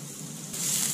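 Minced garlic hits hot oil, and a soft hiss swells into a brighter, louder sizzle halfway through the brief moment.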